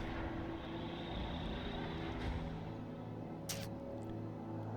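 A spaceship in the video game Star Citizen lifts off and raises its landing gear, a faint steady engine drone with a brief mechanical whoosh partway through.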